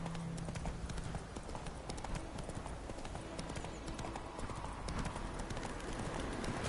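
Horse hooves clip-clop steadily and continuously at a gallop in The Witcher 3: Wild Hunt, loud and close throughout with a faint snort or whinny early on.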